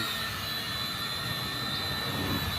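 A small consumer drone flies and hovers steadily outdoors, its motors giving a continuous, even buzzing whine with a high steady tone, close and loud throughout with no pauses.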